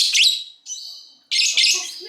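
A pet bird with a red nose gives bright, high chirps in three quick bursts, close and loud, with short silent gaps between them.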